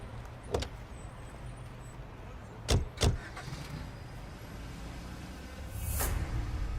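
A car driving along, its low engine and road rumble running steadily throughout at moderate distance, punctuated by several brief sharp knocks and a swelling hiss near the end, with no talking.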